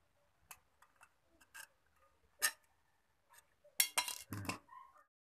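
A used tin can being cut with snips while it is shaped into a mosquito coil holder: sparse, faint metallic clicks and snips, then a louder cluster of crunching cuts near the end.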